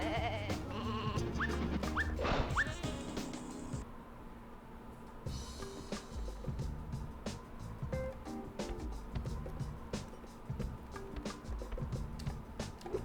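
Sheep bleat in the PlayStation game Looney Tunes: Sheep Raider, a few short wavering calls early on over a steady low game hum, then quieter ambient game sounds with faint clicks.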